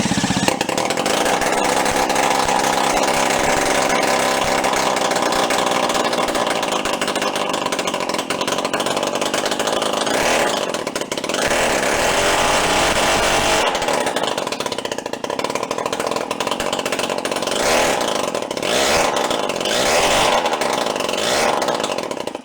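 A small bike engine fitted to a new frame runs and idles with the rear wheel not driven, giving a loud, continuous buzzing drone that stays near and steady for the whole stretch, with a few brief dips in the revs.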